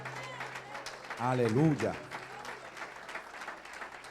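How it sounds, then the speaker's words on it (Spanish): A church congregation applauds loudly for a few seconds, with a voice calling out over the clapping and a steady hum underneath before the room settles. "Denle un aplauso fuerte a Dios"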